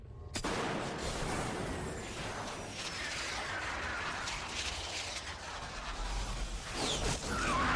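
Heavy gunfire from the video game Resident Evil, a dense, continuous barrage of shots and blasts that runs loud for the whole stretch, with no speech over it.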